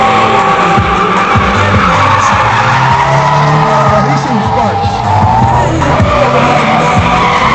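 Eight cars drifting together, a loud continuous wash of tire squeal and revving engines, with overlapping screeches rising and falling throughout and no clear pause.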